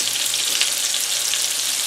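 Salisbury steak patties fry in a pan with a loud, steady, close sizzle and a dense crackling hiss, uninterrupted and with no voices.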